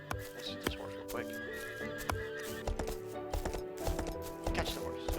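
Horse whinnying in a farm area of a video game, heard amid busy game sounds with clip-clopping hooves, sharp chopping hits and a steady musical background.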